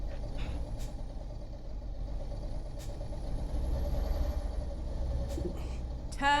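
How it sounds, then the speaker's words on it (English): Old truck engine in the Euro Truck Simulator 2 game, a steady diesel rumble holding throughout with a few faint high clicks and a brief hiss near the end. "I like this old truck because I get the engine sounds a lot more meatier."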